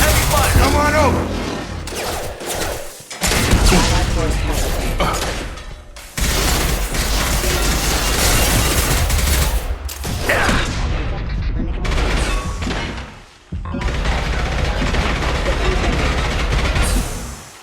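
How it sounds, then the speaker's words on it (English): Heavy gunfire in Mass Effect 2 combat, loud rapid bursts and volleys of shots close by, broken by brief pauses, mixed with mechanical clanks and speech. "Taking heavy fire!"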